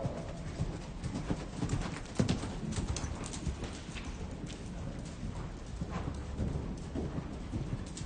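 Horse hooves clip-clop steadily through a riding lesson at a clinic, with horses ridden at an even rhythm in preparation for jumping a small course; the footfalls are fairly close and continuous over broadband arena noise.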